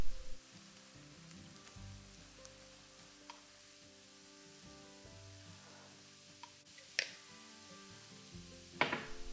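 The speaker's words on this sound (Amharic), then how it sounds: "ከዛ ሁሉንም አንድ ላይ ለ1 ደቂቃ እንጠብሰዋለን።" Ethiopian shiro, a chickpea flour seasoned with berbere and salt, fries in a pan with a steady, soft sizzle, broken by a few sharp clinks and scrapes of a utensil near the end, with no talking.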